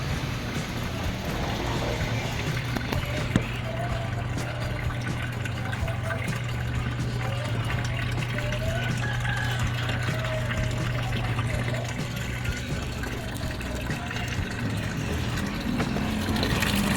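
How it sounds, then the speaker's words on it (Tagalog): Automatic washing machine filling with water, a steady low hum and rushing flow that stays even and close for the whole stretch, with faint background noises and no clear speech. "Naglalagay na ng tubig."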